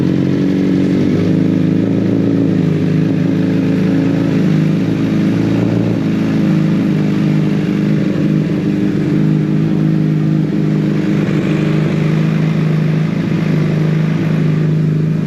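Motorcycle engine idling steadily after being started and left to warm up, a loud continuous low rumble with slight clatter throughout and no voices.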